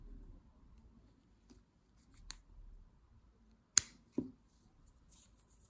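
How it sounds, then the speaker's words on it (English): Scissors snipping crochet thread after slip-stitching the back of a crochet butterfly's antennas, a few sharp quiet clicks and snips in a hushed room, with no talk. "and cut the thread."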